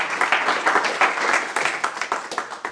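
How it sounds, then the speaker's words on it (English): A small audience at a talk on smart DeFi adoption claps together in a dense, steady round of applause, close and fairly loud. "It's okay, you can clap."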